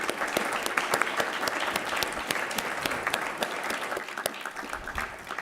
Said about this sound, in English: Let's give one more round of applause to Dr.